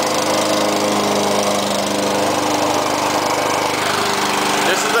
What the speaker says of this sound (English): And this Honda will probably start in one or two pulls.